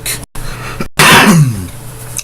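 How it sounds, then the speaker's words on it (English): A single person coughs once, a rough throaty burst after a moment of quiet, fairly loud and close. "Kind of coughing a little bit"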